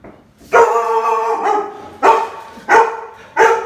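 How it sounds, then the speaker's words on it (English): A dog in protection mode barks loudly and close after a knock at the door, four sharp, drawn-out barks spaced about a second apart with short breaths between. "there was a knock at the door, which made the dog go into protection mode"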